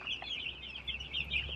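Farm chickens cluck and squawk close by in a steady, chattering series of short calls over a low background rumble, with no talk.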